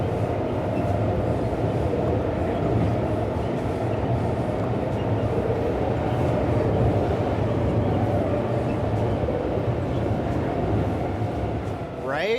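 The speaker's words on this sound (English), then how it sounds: "I really don't like the sounds of the subway in this game." A subway train in the video game Cities Skylines II rumbles steadily and loudly throughout, a continuous rolling drone with a faint voice layered under it.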